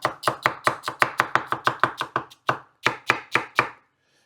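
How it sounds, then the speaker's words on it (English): Celery being cut up on a cutting board with a knife, a quick run of sharp, evenly spaced chops, a short pause, then a few more, close and loud with no talking. "I'm gonna get some of the celery cut up."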